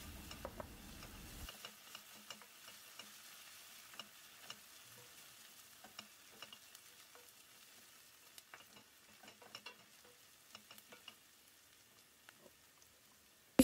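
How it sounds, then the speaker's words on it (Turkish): Onions and pepper paste sautéing in a pan for okra, with a steady soft sizzle broken by frequent light clicks and scrapes of stirring, fairly quiet and close, with no talk. "Karıştırarak kavurmaya devam edelim."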